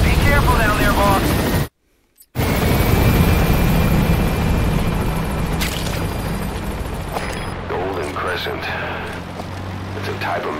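Helicopter in Metal Gear Solid V: The Phantom Pain gives a loud, continuous rotor and engine roar that cuts out briefly, returns and fades as in-game voices speak over it.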